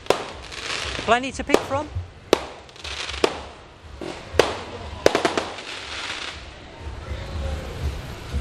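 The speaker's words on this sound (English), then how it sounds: "Okay, so we've got some fireworks as well." Fireworks crack and pop in a string of sharp bursts, some with whistling rises, in the Patong nightlife bar area of Thailand, heard near amid street ambience while a person talks.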